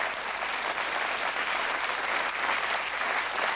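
Studio audience applause on a TV quiz show, an even, continuous burst of many hands clapping, moderately loud, with no voices over it.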